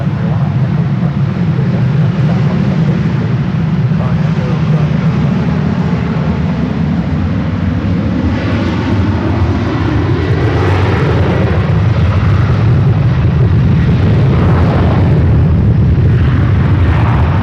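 Jet engines roar loud and close at San Francisco airport as a United Airlines Boeing 777-300ER bound for Tokyo Narita starts to taxi, a steady broad rumble with a rising whine over it and no talk.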